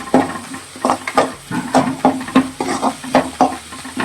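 Onions fry in a pan for spicy palak gravy, loud close rhythmic stirring with a spatula scraping the pan in regular strokes over a steady sizzle, with no speech.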